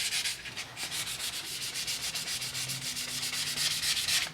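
Hand sanding of primer on a car body panel gives rhythmic, scratchy back-and-forth strokes, about a dozen per few seconds, close and fairly quiet with no talk.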